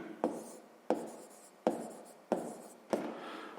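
Ballpoint pen writing numbers for a school math exercise, five crisp strokes spaced about evenly, each a scratchy burst that fades quickly, close and quiet with no voices.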